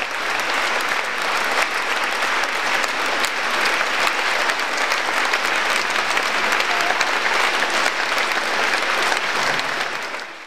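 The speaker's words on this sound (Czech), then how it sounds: "za což si vysloužila frenetický potlesk a na závěr dokonce standing ovation" Frenetic applause from a concert audience in Plzeň's Měšťanská beseda after a performance by mezzo-soprano Dagmar Pecková, a dense, steady wall of clapping lasting the whole stretch, loud and close, fading slightly at the end.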